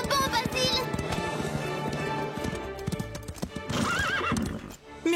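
Cartoon horses gallop with rapid, busy clip-clop hoofbeats and let out shrill neighs and whinnies, loud and close, amid a bustling animated soundtrack.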